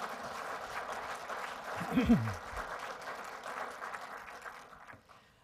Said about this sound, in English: You can applaud at that.